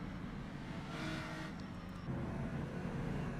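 A race car engine roars steadily up close as it overtakes during a race in a Chaparral, with a brief pitch shift near the end as the revving changes.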